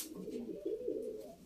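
Pigeons cooing at a bird auction in Turkey, a soft continuous run of low throaty coos close by with a few louder swells, no voices.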